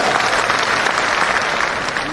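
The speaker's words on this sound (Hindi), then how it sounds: "इनके लिए जोरदार ताली दीजिए भाई।" Loud, dense audience applause fills a hall at a state-level political workshop in Patna, sustained and even throughout with no pauses.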